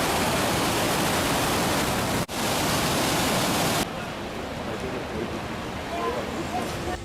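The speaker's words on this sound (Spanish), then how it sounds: "el salto de agua más grande de Europa Central" Roaring rush of the largest waterfall in Central Europe in Switzerland, a dense steady wall of falling water that briefly cuts out and then continues more softly.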